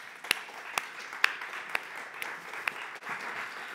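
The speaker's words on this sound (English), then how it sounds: "a big warm round of applause" Audience applause at a South Summit 2019 conference session as a speaker is welcomed to the stage: a soft, steady patter of clapping from a modest crowd, with a few sharper individual claps standing out near the start.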